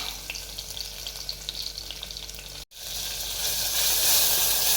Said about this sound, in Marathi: छान अशी फोडणी तळून घ्यायचंय